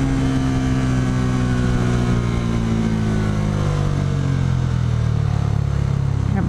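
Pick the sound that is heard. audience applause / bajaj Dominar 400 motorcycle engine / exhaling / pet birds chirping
bajaj Dominar 400 motorcycle engine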